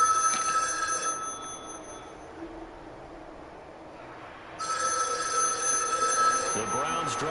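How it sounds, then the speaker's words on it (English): A telephone rings on the sideline in the Madden 23 football video game, with repeated ringing bursts at the start and again toward the end, separated by a quieter gap, over a steady background of stadium ambience. "Why would that phone be ringing down there?"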